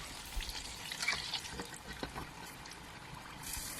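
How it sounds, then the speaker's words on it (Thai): Popcorn chicken fries in a pan of oil, giving a soft steady sizzle with scattered crackles and a few louder pops over roughly four seconds, with no talking. "ก็ทอดเสร็จแล้วนะคะสำหรับกระทะแรกค่ะ"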